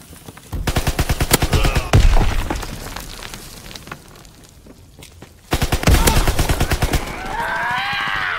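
Rapid bursts of automatic gunfire in a Call of Duty multiplayer match, loud and near, with sustained volleys broken by a quieter lull before firing resumes, plus some shouting in the mix.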